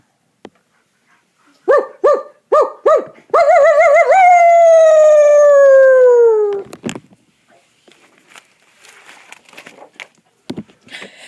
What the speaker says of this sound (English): He barked and barked and barked.